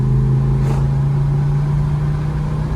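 A 1968 Plymouth Roadrunner V8 with a carburetor fault holds a steady, loud engine drone under hard throttle, a low idle-like hum with a brief rising whoosh near the start, recorded from inside the car without talk.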